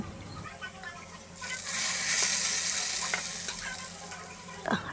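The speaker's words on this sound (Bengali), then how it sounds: "এবার পেঁয়াজ রসুনটা ব্রাউন কালার করে ভেজে নিব" Chopped onion and garlic sizzle loudly in hot oil as a tempering for taro-stem lentil dal, a steady close frying hiss that swells as they are stirred, ending with a sharp scrape.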